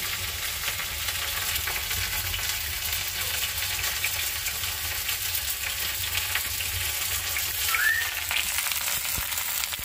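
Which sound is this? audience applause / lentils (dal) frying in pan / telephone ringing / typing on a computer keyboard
lentils (dal) frying in pan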